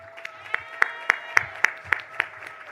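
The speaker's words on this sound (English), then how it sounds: "Give him a round of applause" Sparse, scattered clapping from an audience at a church service, a handful of sharp distinct claps spaced at a slow, fairly regular rhythm, faint and somewhat distant.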